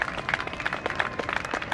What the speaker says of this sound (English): let's give Dan Buchanan one more huge hand